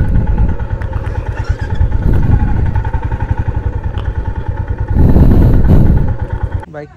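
A motorcycle engine runs close by at a beach parking area in Chandipur, Odisha, a loud, rough, throbbing idle that surges once before cutting off at the end.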